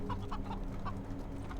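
Chickens cluck in a short burst of several clucks in the Wasteland 3 video game, moderately loud over a steady low game hum.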